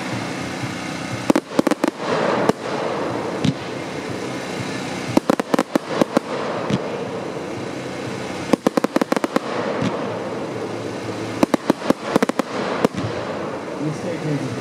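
A 100-shot fan firework cake with silver and blue effects fires clusters of sharp crackling bursts over a steady outdoor background, the volleys coming in several quick rapid-fire groups.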